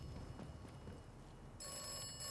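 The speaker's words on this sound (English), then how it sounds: "I don't even know where the phone is, but it's ringing" After a stretch of muffled background noise, a telephone starts ringing near the end, a steady, moderately faint tone.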